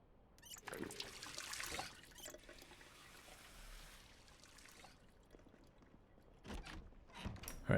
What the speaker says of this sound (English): Let's top off our water because there's no reason not to.